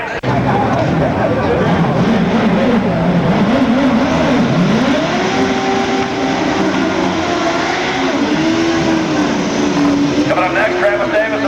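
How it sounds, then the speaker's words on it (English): Turbocharged Suzuki drag racing motorcycle from Colorado making a pass, a loud sustained engine roar with rising and falling pitch as it revs through the run, with an announcer talking over it throughout. "Hogan's Turbo Suzuki out of High Country of Colorado rips into the 660 zone again at 6"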